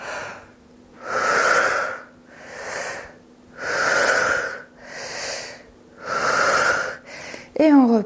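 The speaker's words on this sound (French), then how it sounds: "On respire par la bouche. On fait des grandes respirations" Deep breaths are taken through the mouth during a yoga session, about five long, loud, breathy inhale-exhale cycles close up, with a steady low hum beneath and a short voiced sound at the end.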